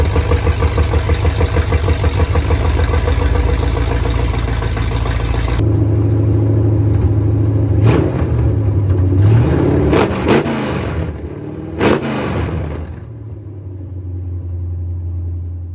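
A classic Dodge V8 fires up for the first time through open long-tube headers, blaring a loud, choppy idle that drops away abruptly, then returns with sharp revving blips and a deep burbling settle before falling quiet.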